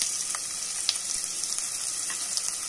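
Onion frying with garlic in a pan gives a steady, close hiss of sizzling with small pops and crackles scattered through it.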